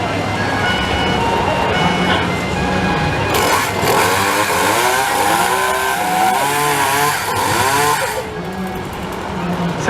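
Chainsaw engine of a street busker's juggling act sputtering, then catching and revving in repeated rising and falling bursts, loud and close, with a person talking over it outdoors.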